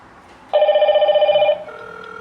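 A Hikvision KH8520-WTE1 IP intercom call rings through on a phone as a single steady electronic tone lasting about a second, then dropping to a softer, lower tone, loud and close with no talking.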